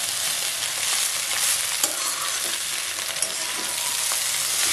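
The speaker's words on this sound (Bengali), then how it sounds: "তো দেখো এবার আমি চাউমিনগুলো দিয়ে ভালো করে নেড়ে চেড়ে ডিমের সাথে মিশিয়ে নিচ্ছি" Chowmein noodles are stir-fried with egg in a hot pan, giving a loud, continuous close-up sizzle with a few sharp scraping clicks of the spatula throughout.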